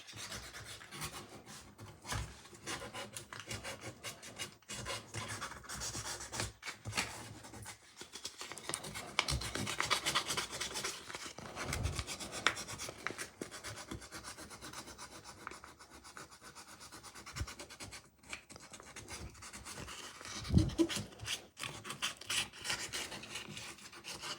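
Wood being sanded by hand with sandpaper, heard as soft, steady rubbing and rasping strokes close by, fairly quiet with no talk.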